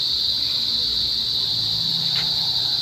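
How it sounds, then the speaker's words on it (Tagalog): Crickets chirp at night in Batangas, a steady high-pitched insect drone that holds for the whole stretch over a low background rumble, with no talking. "dito po sa Batangas, pagkagabi na, ganyan po, makuliglig"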